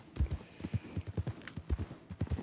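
Horse hooves clop in the video game Red Dead Redemption 2, a close, steady rhythm of paired thuds at a walking pace across the whole stretch, with no talk.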